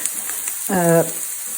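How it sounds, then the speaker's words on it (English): Potato squash fries in garlic butter in a pan with a steady, close sizzling hiss. A short tonal squeal cuts in briefly partway through. "a potato squash and garlic butter. That's all that's being fried in."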